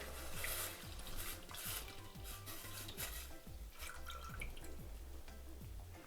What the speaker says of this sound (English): I'm going to go ahead and place my milk into this pot here.